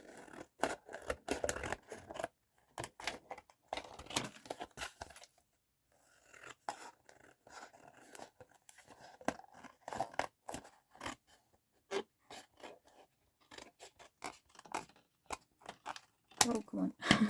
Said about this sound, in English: So now I'm just going to cut around this.